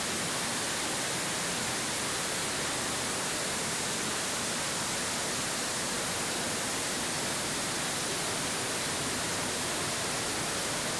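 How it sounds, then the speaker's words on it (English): Water falls in an underground river cascade deep inside a cave, a loud, steady broadband roar that fills the space without pause or variation, with no voices. "In the caves, rivers also generate cascades, and the sound of the falling water is much louder down here."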